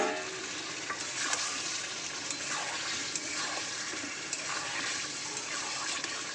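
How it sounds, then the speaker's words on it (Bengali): Fried eggs go into a curry masala made with tomato sauce, sizzling in oil in a pan. The frying hiss is steady and close throughout, with no talking. "তো চলো এবার ভেজে রাখা ডিমগুলোকে দিয়ে দেব।"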